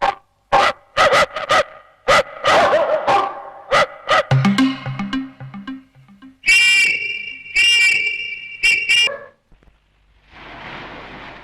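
A man imitates a dog barking in a comedy scene, giving a rapid series of loud, close woofs and yips, then a whistle-like whine, before the sound drops away into a soft hiss.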